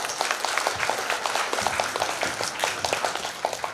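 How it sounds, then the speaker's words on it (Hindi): An audience at a state school chess championship breaks into sustained applause, many hands clapping steadily and fairly loudly throughout with no break. "एक बार फिर सर के लिए फिर से तालियां बजा दीजिए।"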